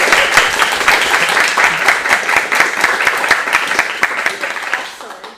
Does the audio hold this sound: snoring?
no